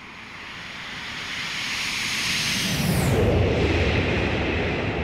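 A Boeing 727 does a flyby in a flight simulator game, its jet roar building to a loud peak with a sweeping high whine as it passes, then rumbling on.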